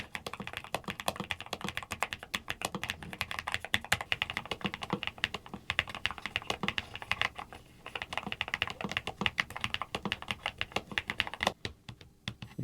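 Steady, rapid typing on a NuPhy Node75 low-profile mechanical keyboard, key clicks close and crisp with a few brief pauses.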